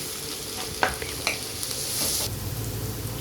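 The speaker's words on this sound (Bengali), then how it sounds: "সবার আগে দিয়ে দেবো রসুন কুচি আর আদা কুচিটা বাটারের মধ্যে।" Chopped garlic and ginger fry in melted butter in a kadai, giving a steady close sizzle with a couple of sharp stirring scrapes early on; no talking.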